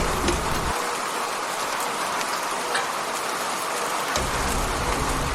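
Steady heavy rain hisses throughout, with scattered drops ticking on a hard surface and a low rumble fading in and out.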